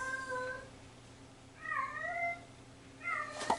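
A house cat makes unusual, drawn-out meowing cries, three wavering calls spaced apart over a low steady hum in a home kitchen.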